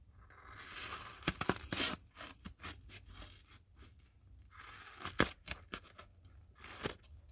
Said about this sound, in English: I'm just going to cut the sponge in half.